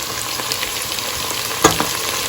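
Tomatoes and green chillies hitting a hot frying pan during bottle gourd curry cooking, loud close sizzling with occasional stirring scrapes and a sharp clack partway through.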